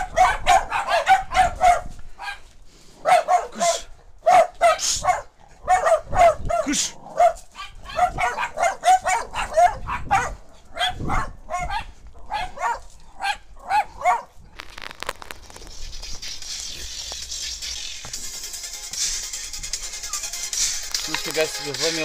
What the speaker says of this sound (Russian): Я забыл сказать, что у него куча собак.